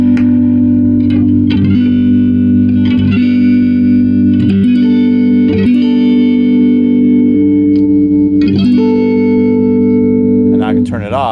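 Guitar played through a vintage 1964 Fender Super Reverb amp, sustained chords ringing with a shimmering reverb and tremolo-like pulse, struck repeatedly and loud, close up.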